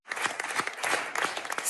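Long burst of applause for Jean Castex's farewell to his government: dense, steady clapping from a crowd, close and sustained throughout with no voices.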